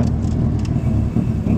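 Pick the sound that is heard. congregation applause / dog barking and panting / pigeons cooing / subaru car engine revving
subaru car engine revving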